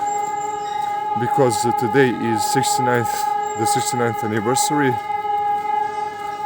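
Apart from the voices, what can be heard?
civil defense sirens commemorating Warsaw uprising anniversary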